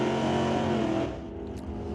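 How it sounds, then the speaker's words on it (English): Camaro factory stock drag car with a 396 engine racing down an NHRA drag strip, a loud sustained engine roar that drops in level halfway as it pulls away into the distance. "That's a 396 power factory stock machine."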